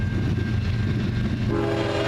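A CN freight train, locomotive 2308, rumbles steadily nearby at Ladysmith with a low roar, and a horn tone rises toward the end.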